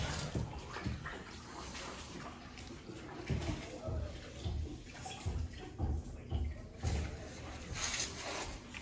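Water rinses over click-lock floor tile during a DIY install, a steady close wash of splashing with soft rhythmic thumps running underneath throughout.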